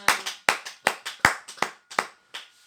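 Seven or eight sharp, echoing claps ring out from a church congregation during a prayer, struck in a loose rhythm, loud and close, with each clap trailing off into reverb.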